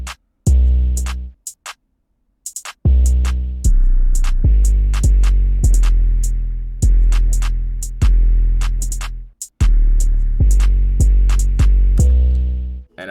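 A booming 808 bass line in an ambient trap beat follows the root notes of the melody, with long sliding low notes and punchy restarts in a steady rhythm, loud and with no voices.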